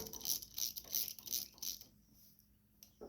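On a John Deere LA105 riding mower with a 19.5 horsepower engine, a ratchet clicks rapidly in several short, close bursts while a spark plug is threaded back in, then falls quiet.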